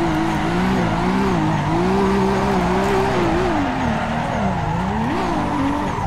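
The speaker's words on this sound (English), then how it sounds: "that is all damn skids right there" Sustained tire squeal from a 460hp Nissan S15 drifting at Ridge Motorsport Park in Assetto Corsa, a wavering high screech riding over a loud, steady engine roar for the whole stretch.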